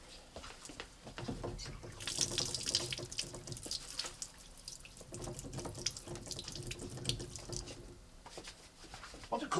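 Water from a tap runs into a vase being filled for flowers, a continuous splashing gush with small drips and clinks that swell and fade, close up and without speech.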